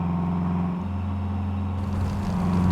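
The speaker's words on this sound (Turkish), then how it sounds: "Motor sesine bakın motorun sesine bakın ya." Steady engine drone of a Volkswagen Amarok pickup driven in Euro Truck Simulator 2, a continuous low hum with a slight rise in pitch near the end, heard alone with no talk.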